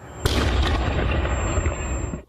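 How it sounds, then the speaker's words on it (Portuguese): A distant explosion during an armored car robbery, caught by a far-off security camera: a sudden loud boom followed by a sustained roaring, crackling rumble that cuts off abruptly, with no talk. "Essa câmera, mais de longe, registrou o momento de uma das explosões."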